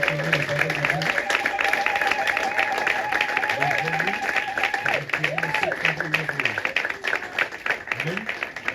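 Congregation applauding during a Sunday church service, steady clapping spread across the room and mixed with voices and a sung melodic line throughout.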